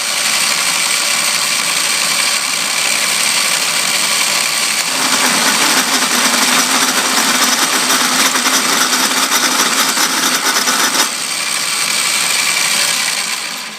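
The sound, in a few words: milling on an Atlas lathe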